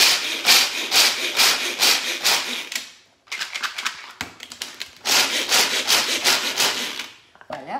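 Hazelnuts, almonds and pecans being crushed for a meringue and dacquoise dessert make loud, rhythmic grinding and scraping strokes in repeated bursts with short pauses.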